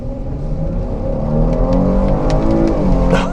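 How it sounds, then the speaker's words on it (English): A 2024 Chevy Blazer RS in sport mode with all-wheel drive accelerates hard on an open road. Its engine drone rises steadily and loudly in pitch from inside the cabin, with no voices. "quick acceleration here for you on this road with no one behind us"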